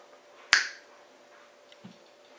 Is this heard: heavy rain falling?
no